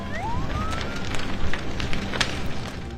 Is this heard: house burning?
yes